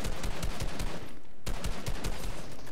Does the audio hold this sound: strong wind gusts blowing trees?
no